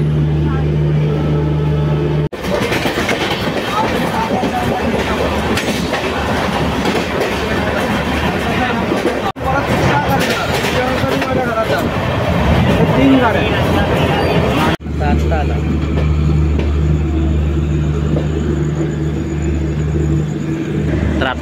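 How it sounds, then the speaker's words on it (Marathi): The Mangalore Express rolls along after leaving the station, with a loud, steady rumble and rhythmic clickety-clack of wheels on rail joints. Voices come through intermittently. "म्हणजे आता 1 टाइम ट्रेन निघालेली आहे."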